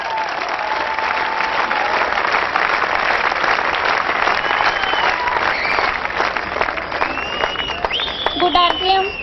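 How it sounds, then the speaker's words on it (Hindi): Audience at a business seminar breaks into loud, sustained applause, a dense wash of clapping from a large crowd that swells toward the end, with voices and cheers mixed in. "आप सबकी जोरदार तालियों के बीच माय वाइफ सुदेश शर्मा।"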